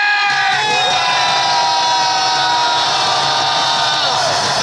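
A large crowd at a political rally in Gwanghwamun, Seoul, roars and cheers in unison, a loud sustained shout with tonal, chant-like voices that holds steady throughout.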